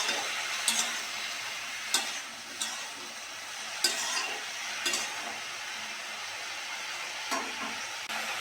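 Water lily stems fry in oil with nigella seeds, a steady close sizzle with a few light utensil clicks and stirring scrapes breaking through at intervals.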